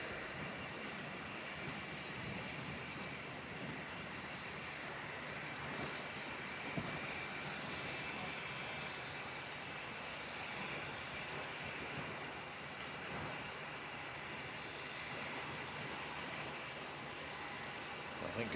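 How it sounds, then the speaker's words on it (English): Embraer C390 military transport aircraft taxiing onto the runway at an airshow, its engines giving a steady, moderately distant broadband roar that holds evenly throughout. "out onto the runway gracefully moves the C390. This is from Embraer from Brazil."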